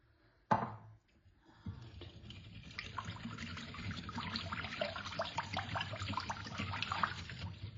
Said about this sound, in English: going to add the about 3/4 of the tin of the coconut milk